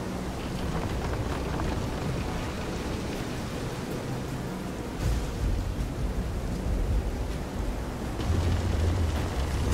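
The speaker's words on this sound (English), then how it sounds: "This is some storm." Stormy sea in the fantasy action game Visions of Mana, with a steady roar of rain and wind aboard a pitching boat, rumbling low thunder and heavier surges of wave noise swelling near the end.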